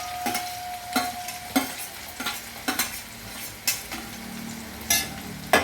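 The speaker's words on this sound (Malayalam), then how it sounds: "അപ്പോൾ അതിലേക്ക് നമുക്ക് ചുമന്നുള്ളി ഇട്ട് വരട്ടാട്ടോ." Shallots sauté in hot oil in a cooking pot, a soft steady sizzle broken by repeated sharp scrapes and clinks of a spoon stirring, close and fairly quiet, with no voices.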